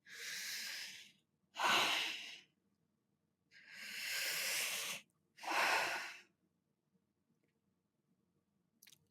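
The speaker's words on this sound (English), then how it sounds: "Deep breaths." Four slow, deep breaths, alternating long inhales and exhales, taken close to the microphone to calm down, airy and hissing, with silent pauses between them and nothing after the last one.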